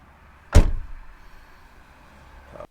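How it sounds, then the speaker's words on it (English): A 2021 Ford Bronco door opens with one sharp latch clunk, followed by a soft, fading mechanical hum and a faint click at the end, heard close up with no talking. "Open the door again."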